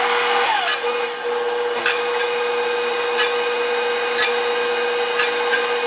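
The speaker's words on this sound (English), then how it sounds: "there's a little bit of that rasping on the side of the whisk" A KitchenAid Professional 550 stand mixer runs with a steady motor whine while its whisk rasps against the side of the bowl, scraping ticks recurring roughly once a second.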